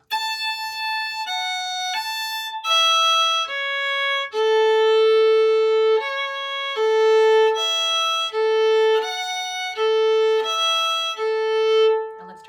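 A fiddle plays the opening two phrases of High Reel, a Scottish reel, as clear, steady bowed notes at a slow learner's pace, close and alone.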